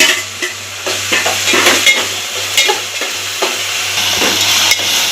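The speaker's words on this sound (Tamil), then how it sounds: "இப்போ தக்காளியும் பச்சை மிளகாயும் போட்டுக்கிறேன்." Tomatoes and green chillies fry in a pan, the sizzle broken by repeated spoon scrapes and stirring knocks against the metal, close and fairly loud over a faint low hum, no talking.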